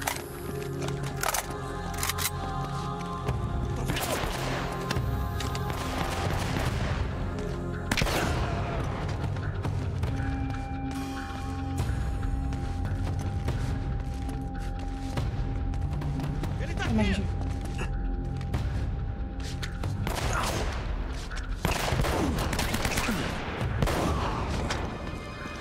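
Repeated bursts of gunfire from a weapon in Uncharted: Drake's Fortune fill the stretch, with rapid volleys and booming shots over steady game noise while someone talks over the action.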